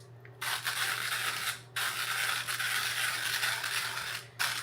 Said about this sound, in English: you can actually grind these pretty light roast coffees without a lot of pain